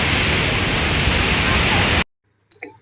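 Victoria Falls in Zimbabwe gives off a loud, steady roar of falling water for about two seconds, then cuts off abruptly. A voice follows briefly.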